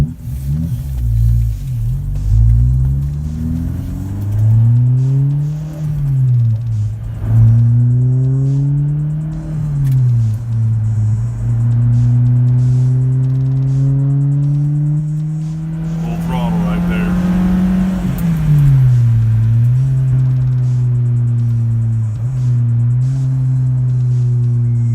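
A Honda S2000 with a custom exhaust and resonated tips revs repeatedly, its mellow, deep note rising and falling close by in a steady, loud drone.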